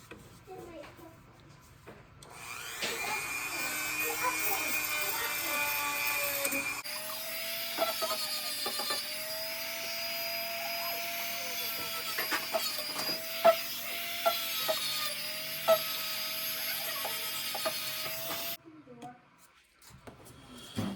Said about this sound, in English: I have my Dremel tool here. I'm going to try to get this down in the axle and see if I can smooth out the grooves